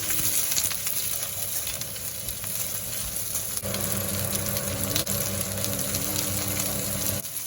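Onions and garlic sauté in a little sesame oil over medium heat, giving a steady, close sizzle and crackle that runs continuously with no talking.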